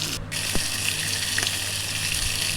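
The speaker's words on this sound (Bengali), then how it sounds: "মাছের মাথাটা আমি ভালোভাবে লাল লাল করে ভেজে একটা পাত্রে তুলে রাখবো" Fish heads fry in hot oil with a dense, continuous hiss, steady and close, broken by a couple of faint clicks.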